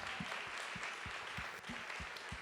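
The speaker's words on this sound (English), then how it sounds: "One round of applause for our students one more time." Applause for students at a teacher awards ceremony in Baltimore, a soft continuous patter of many hands heard from a distance, with regular low thumps running beneath it.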